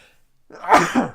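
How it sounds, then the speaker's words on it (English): A single sharp sneeze bursts out close to the microphone, short and loud against near silence. "Excuse me, as I sneeze."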